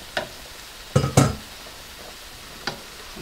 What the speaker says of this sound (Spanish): Ya revolviendo ya con los vegetalitos y el brócoli.